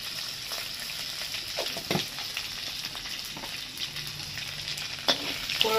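Panch phoron spices fry in hot oil in a pan just cleared of prawns, giving a steady soft sizzle with occasional crackles and pops, no talk.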